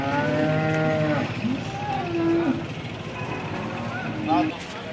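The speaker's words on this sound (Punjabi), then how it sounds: "ਬਹੁਤ ਵੱਡੀ ਗਾਂ ਹੈ ਪੂਰੀ ਯਾਨੀ ਕਿ ਟੌਪ ਦੀ ਗਾਂ ਹੈਗੀ" A large dairy cow lets out a long, loud moo at the start, followed by quieter lowing and background voices in a noisy cattle market.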